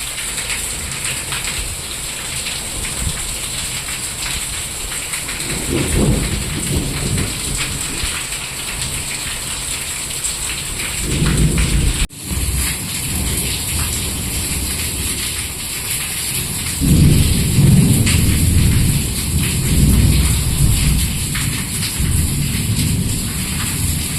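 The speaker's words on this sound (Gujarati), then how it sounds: "સુરેન્દ્રનગરમાં આવી રીતે પડ્યો વરસાદ" Heavy rain pours steadily in Surendranagar, a dense loud hiss throughout, with deep rumbles of thunder rolling in the middle and swelling again toward the end.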